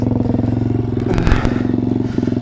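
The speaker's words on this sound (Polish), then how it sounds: "okazało się, że to silnik od Hondy Cube, czy Coupe" Pit bike, an MRF 140 RC-Z fitted with a Honda engine, idling close by with a steady rapid engine chug and a brief burst of rattling clatter midway.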